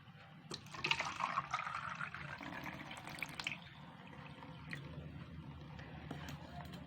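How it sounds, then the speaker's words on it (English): Water runs steadily into a bottle in a simple classroom demonstration, a soft continuous trickle and splash with faint drips, fairly quiet throughout. "you have to fill the bottle with water"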